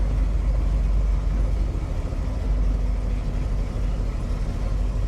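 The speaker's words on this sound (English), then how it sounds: "There's this little bit of a rumble to the engine." A 1969 Ford Mustang Shelby GT500 with a Cobra Jet engine rumbles while driving, a steady deep low-end drone with road and cabin noise and no talking.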